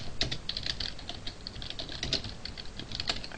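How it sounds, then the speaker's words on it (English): Fingers type on a computer keyboard in a quick, continuous patter of close clicks that continues throughout with no pause and no talk. "can't talk and type at the same time."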